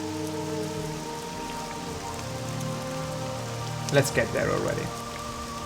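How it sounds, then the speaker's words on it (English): Steady rain falls throughout a scene in the Morrowind video game, a soft continuous patter mixed with game music and ambience, while a voice speaks briefly near the end. "Hopefully the rain is subsided."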